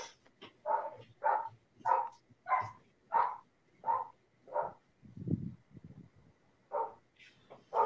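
A dog barks outside in a steady run of about ten sharp, evenly spaced woofs, loud and fairly close, with a brief lower rumble midway and no talking.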